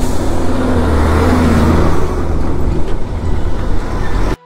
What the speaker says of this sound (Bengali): একের পর এক ট্রান্সপোর্টের গাড়িগুলো